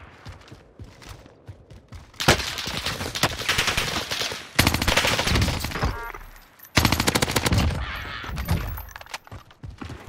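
Rapid automatic Vargo rifle fire in Call of Duty Warzone on Rebirth Island, coming in three loud, sustained bursts with short pauses and softer game ambience between them.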